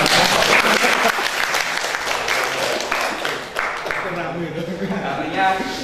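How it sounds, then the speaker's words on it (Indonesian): An audience at an internet marketing seminar in Kediri breaks into dense applause. The clapping fades gradually as a speaker's voice begins to come through underneath. "Tepuk tangan."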